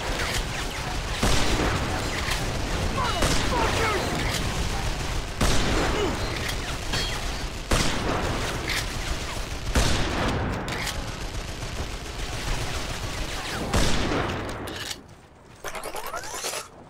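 Dense, continuous gunfire from a machine gun and other weapons fills the Vanquish video game battle, with rapid bursts and loud impacts that stay nearly constant before briefly dropping off near the end.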